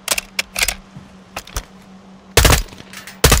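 Gunfire in Call of Duty Modern Warfare 2 (2022), sharp bursts of automatic rifle fire in irregular clusters, some brief single shots and a heavier, louder volley near the end over a low steady hum.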